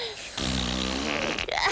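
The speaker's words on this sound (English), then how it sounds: "When you fart, you should say, pardon me." A person lets out a fart, a loud, low, rumbling buzz lasting about a second and a half with a rough tail at the end, close and alone without talk.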